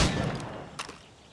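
Gunfire aimed at targets in Assassin's Creed Rogue: a fairly soft shot at the start, then a second sharp report near the middle, each fading quickly into a quiet background.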